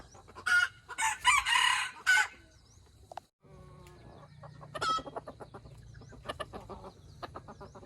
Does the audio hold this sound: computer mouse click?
no